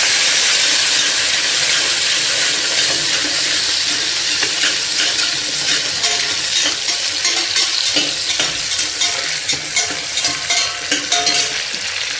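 Onions sizzle and crackle in hot tempering oil with curry leaves and lentils, a dense steady frying hiss with occasional stirring scrapes, close and continuous.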